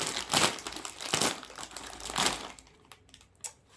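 A plastic bag crinkles and crackles in irregular bursts as it is handled and opened close by, fading to quieter rustles at the end, with no voices.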